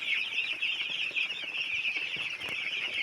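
Young chicks in a coop peeping continuously in a thin, high chorus while it rains outside, faint and steady throughout with no voices.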